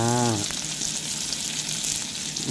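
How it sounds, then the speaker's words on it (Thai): Chinese kale stir-frying in a pan, a steady close sizzle that follows a short hum at the start. "โอ้นี่ทำผัดคะน้า"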